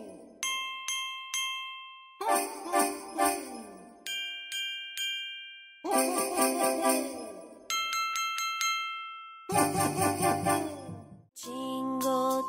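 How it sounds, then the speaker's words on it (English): Small bells jingle in repeated bright shaking bursts, joined by a tuneful children's Christmas song arrangement with chimes and instruments, loud and rhythmic throughout. "Jingle, jingle, little bell, I can ring my little bell."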